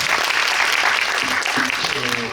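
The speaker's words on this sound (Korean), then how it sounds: "여러분 박수 한 번 더 부탁드리겠습니다" Audience applause at a film guest visit Q&A in a cinema hall, a steady wash of clapping from a packed crowd lasting throughout, with a few voices rising briefly near the end.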